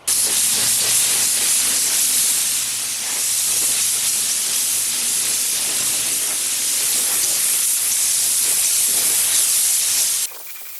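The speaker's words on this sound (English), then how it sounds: "I think I'm going to go ahead and spray it black" Aerosol can spraying black paint onto a metal shear, a loud continuous close hiss lasting about ten seconds before stopping abruptly.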